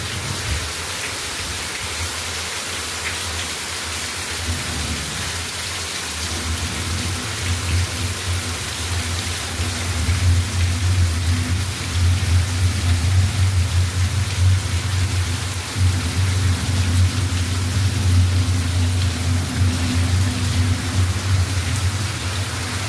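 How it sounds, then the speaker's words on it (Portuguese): Heavy rain falls steadily across the region around Currais Novos, Rio Grande do Norte, Brazil, a loud, dense, continuous wash of rainfall with a low rumbling undertone and no voices. "chovendo aqui geral na região de Currais Novos"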